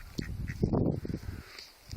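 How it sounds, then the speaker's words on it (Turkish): A few nasal quacks from ducks nearby, short and uneven, with one louder honking call in the middle. "İşte bakın ördeklerimiz burada."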